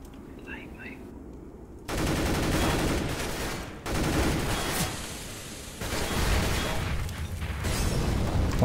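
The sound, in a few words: flashbang and gunfire in video game CS:GO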